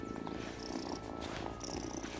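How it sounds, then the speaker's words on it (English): A cat in the video game Wylde Flowers purrs with a soft, steady rumble that continues quietly under light game ambience, with no voices. "Listen to that purr."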